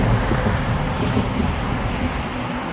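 Wind rumbles and buffets against the microphone in a low, continuous roar with slight gusting.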